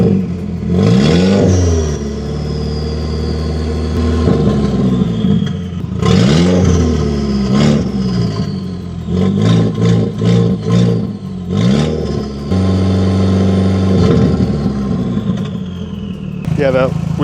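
A turbocharged Audi MK1 TT engine revs up and settles repeatedly in short bursts, loud and close, with a steady idle running underneath between the throttle blips.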